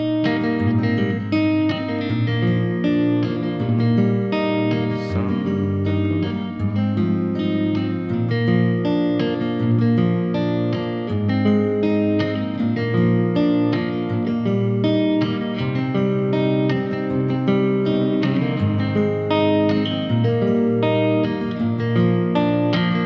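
A guitar plays the verse pattern of a song, with steady picked chords and a moving bass line that carry on loudly and without a break, with no voices.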